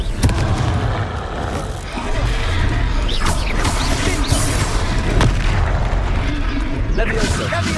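Confringo spell explosions in the Hogwarts Legacy video game, dense booming blasts and crashing impacts layered over game sound effects and voices, loud and nearly continuous.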